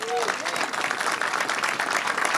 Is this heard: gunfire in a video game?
no